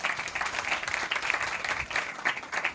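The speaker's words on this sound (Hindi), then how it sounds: "इन सभी शिव शक्तियों के लिए जोरदार ताली हो।" A small audience at a Mother's Day event clapping together, a short burst of brisk, fairly close hand claps with no talk over it.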